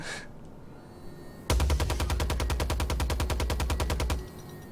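A Gatling cannon mounted on a Merlin ship in the Star Citizen video game fires one sustained, rapid, evenly spaced burst lasting about two and a half seconds, loud and close, then cuts off abruptly.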